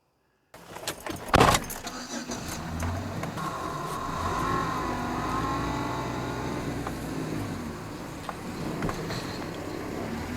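Pickup truck pulling up to load firewood at a chainsaw tree-work site, its engine humming steadily at moderate distance after a sharp knock, rolling on for about ten seconds without talk.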